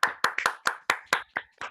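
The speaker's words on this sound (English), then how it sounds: "A round of applause" Hand clapping follows a poem reading at a refugee writing showcase, about eight distinct, close claps in an uneven rhythm, like a single person or very small group applauding, with no voices.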